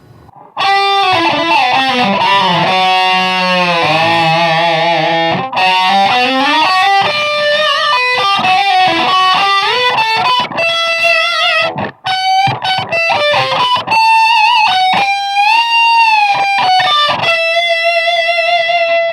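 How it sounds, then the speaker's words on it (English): An overdriven electric guitar through a Line 6 Spider V 240HC head's doubler effect plays a long lead passage, its thickened, doubled tone giving each sustained and bent note a wide, layered sound. "Here's with the doubler."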